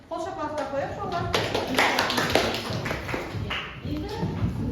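Eighth-grade schoolchildren in a classroom break into clapping, a busy patter of hand claps rising after a teacher's voice and running under continued talk.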